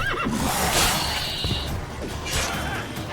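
A horse neighs in the video game Witcher 3, a fairly close whinny over busy game sound effects with a whooshing swipe and clattering noises around it.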